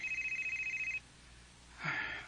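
Telephone ringing with an incoming call, a rapid electronic trilling bell pulsing for about a second before stopping, followed by a brief rustle or handling noise.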